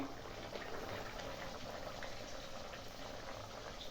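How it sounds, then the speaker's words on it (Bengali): Radhaballavi dough frying in hot white oil, a steady dense bubbling sizzle that holds evenly throughout at a moderate, close level. "এরপর সাদা তেল বসে দিয়েছি গরম তেলের মধ্যে দিয়ে দেবো"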